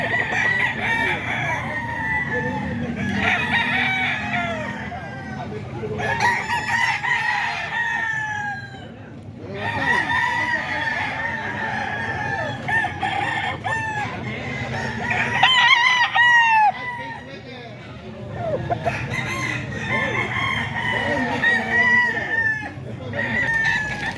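Red Kelso gamecocks, eight-month-old banded roosters, crow repeatedly one after another, loud and close, with a few brief pauses and a little background chatter.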